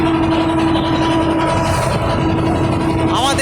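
A boat's engine drones steadily and close during a boat ride, a loud continuous rumble with a low hum, while a voice talks over it.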